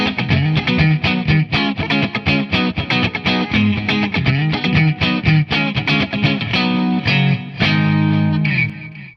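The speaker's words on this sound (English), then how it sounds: "this is the sound of the amp without the pedal running." Electric guitar played straight into a 1970 Fender Bandmaster amp with the drive knob low and no pedal engaged, a busy run of strummed chords and picked notes that is loud and continuous, with a mildly overdriven edge.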